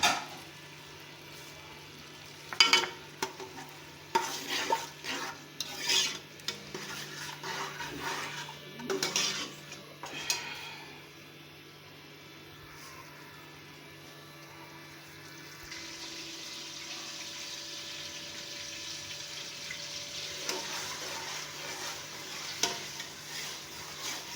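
Onion, ginger and garlic sizzle and fry in a pan with intermittent stirring and clattering, the sizzle steady and moderate, no voices.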